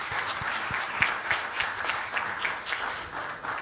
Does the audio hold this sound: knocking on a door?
no